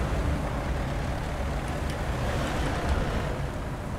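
A steady low rumble of a nearby tank engine in the video game War Thunder, continuous and moderately loud with no talk over it.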